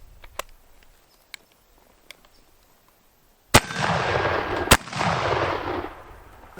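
Two sharp, loud shotgun blasts fired from the hip, the first followed by a long rumbling echo and the second by more roar and rustle, with a few small clicks and handling sounds before.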